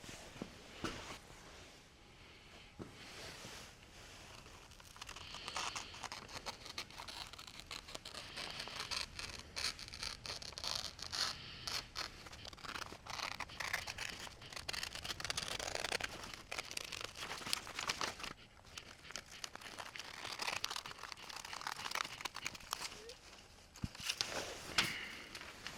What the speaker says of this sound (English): now that I got my scissors, we're going to cut this out.